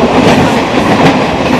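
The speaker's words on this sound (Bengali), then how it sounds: "ট্রেন কিন্তু 100 ছুঁয়েছে" A new Howrah-to-Digha passenger train running on rails at about 100 km/h gives a loud, steady, close rumble with a continuous clickety-clack of wheels throughout.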